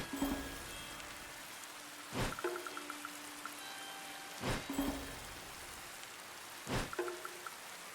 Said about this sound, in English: What a lucky day for rain.